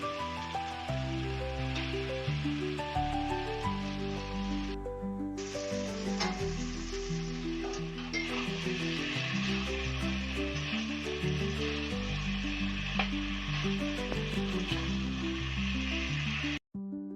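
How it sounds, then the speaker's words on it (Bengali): Fried potatoes and pointed gourd go into a hot pan, raising a steady, loud sizzle and crackle that runs without pause under background music. "এই পর্যায়ে দিয়ে দেব ভেজে রাখা আলু ও পটলগুলো।"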